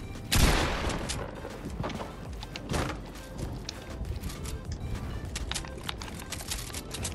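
Rapid gunfire from a Fortnite match, with sharp shot bursts near the start and again mid-clip over a busy stream of smaller pops and clicks, steady and moderately loud.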